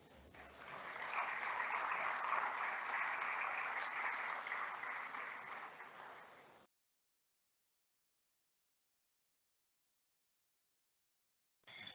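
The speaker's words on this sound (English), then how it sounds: "you can please welcome Keith and improve his mood by giving him a good round of applause" A conference audience at a morning keynote breaks into a round of applause that swells, holds steady for several seconds and fades out, followed by silence.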